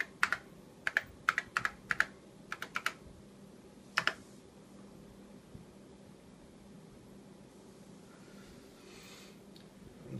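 Keys clack on a vintage Apple II keyboard as a password is typed, in quick irregular bursts of distinct taps over the first four seconds, then only a steady fan-like hum remains.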